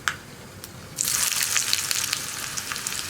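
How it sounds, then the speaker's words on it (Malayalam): Sliced onion goes into hot oil after popping mustard seeds for a breadfruit curry. A quiet crackle with a few pops suddenly swells into a loud, bright, crackling sizzle that continues close and steady. "ഇനിയിപ്പോൾ നമുക്ക് കടുക് പൊട്ടി കഴിയുമ്പോൾ ഈ റൗണ്ടിൽ കട്ട് ചെയ്ത് വെച്ച ഉള്ളിയും കൂടി ചേർത്ത് കൊടുക്കാം"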